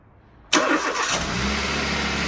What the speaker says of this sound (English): First start of Charlie's engine